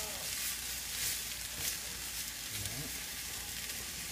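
Onions cook down in a pan with a steady soft sizzle and faint stirring, heard close and alone.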